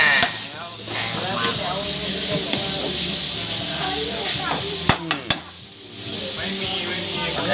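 Pork sizzles loudly in a hot pan for Thai stir-fried holy basil, a constant close hiss broken by scraping stirs and a few sharp clanks of a utensil against the pan, with talk over it.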